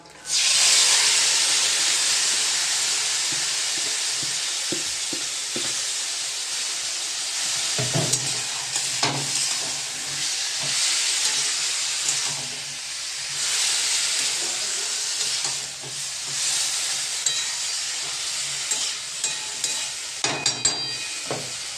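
Spice paste for a fish curry hisses and sizzles steadily in hot oil in a wok, with scattered stirring scrapes and clicks over the continuous loud frying.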